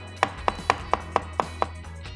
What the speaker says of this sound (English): Now I've got some cucumber. I'm just going to chop that really fine.